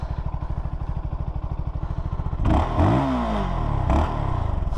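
A 2022 CFMoto 300NK single-cylinder motorcycle idles with a rapid, even thumping pulse, then revs sharply in a couple of rising bursts before settling back to the steady idle, close and alone.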